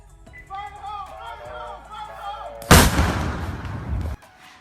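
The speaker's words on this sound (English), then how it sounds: "So that was me blowing a shape charge, a silhouette charge" A silhouette charge detonates partway through, a single sharp, loud blast followed by a rumbling roll-off lasting over a second, preceded by people talking nearby.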